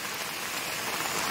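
Heavy monsoon rain in a Konkan village pours down steadily as an even, dense hiss that fills the whole moment, with no voices.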